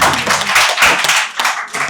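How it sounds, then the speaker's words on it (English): Applause rings out in a crowded room at a cooking competition at India Bazaar in Plano, Texas, with quick, loud, uneven bursts of clapping lasting under two seconds. "a big round of applause."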